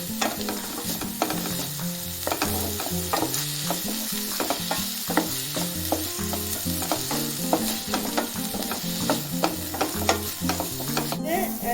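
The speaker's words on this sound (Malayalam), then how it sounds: "പച്ച നിറം മാറുന്നത് ഒന്ന് വഴറ്റി കൊടുക്കാം" A frying pan sizzles steadily while a spatula stirs and scrapes in quick, repeated strokes throughout, loud and close, with faint background music and no talking.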